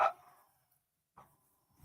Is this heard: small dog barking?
yes